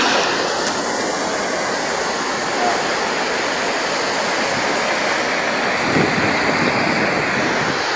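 Sea waves roll in at a beach in Real, Quezon, a loud, continuous wash of surf that swells slightly now and then, heard up close without speech.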